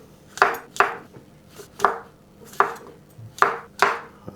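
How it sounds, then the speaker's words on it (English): Rough chopping of ingredients for a keto chicken traybake, a steady series of about eight sharp knife strikes on a board, close and fairly loud with a quiet kitchen between hits. "We're just going to do a rough chop."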